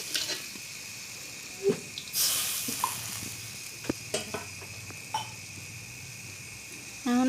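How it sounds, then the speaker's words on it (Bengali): Water is poured into a pan of sizzling chopped onion and fish, setting off a sudden loud hiss over the steady frying sizzle, followed by scattered spoon clinks and stirring sounds. "এখন জল দিয়ে দিলাম।"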